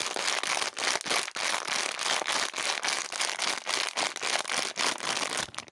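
Cellophane crinkled and rustled close by as a home remedy against snoring, a dense continuous crackling with rapid irregular bursts that keeps going steadily throughout, with no voices.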